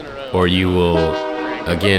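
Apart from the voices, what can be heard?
train horn honking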